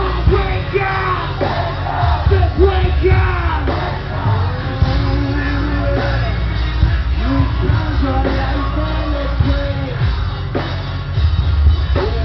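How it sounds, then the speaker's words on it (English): A concert crowd yells and whoops along with a performer at a 2015 show, a dense, loud wall of massed voices with rising shouts and cheers throughout over booming low music. "I need y'all to scream at the top of your lungs"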